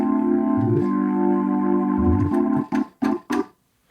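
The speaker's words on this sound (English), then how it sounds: "we have this light organ that sounds like this" A light organ patch in MainStage 3 holds smooth sustained chords that shift once, then ends with a few short detached stabs before falling silent.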